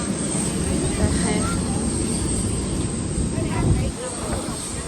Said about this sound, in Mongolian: энэ том онгоц байна.